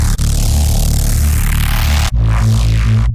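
A filtered wavetable synth passing through notch filters, with wobbling phase cancellation over a deep pulsing low bass pattern and hissy sweeping upper noise, loud and alone, cutting briefly before continuing.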